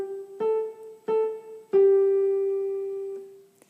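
Three piano notes struck one after another in the right hand, the last one a pinky stretch, sustained and ringing out longer than the first two; clear, close and solo with no talking.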